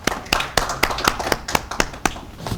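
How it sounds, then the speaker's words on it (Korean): A small seminar audience claps to welcome the next speaker at an opening ceremony, a sparse run of close, distinct handclaps in an uneven rhythm. "박수로 맞이해 주시기 바랍니다."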